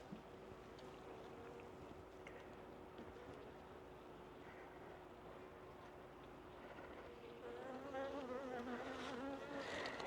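Mountain bees buzz close around a beekeeper's face at a remote cabin apiary, a continuous droning hum with individual insects whining past, growing louder and busier toward the end.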